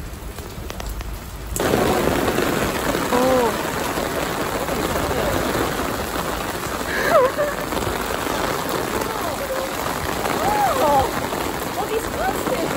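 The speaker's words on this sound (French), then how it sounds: "Il pleut des cordes." Heavy rain pours steadily in Korea, a dense, constant hiss of drops on surfaces that swells in after a quiet start, with a few brief exclamations and voices heard faintly over it.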